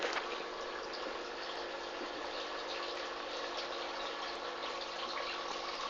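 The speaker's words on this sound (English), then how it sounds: "You can hear all my pumps and everything go straight away." Home aquarium pumps running as a main fish tank is refilled, a steady close wash of flowing water and pump hum that holds even and unbroken throughout.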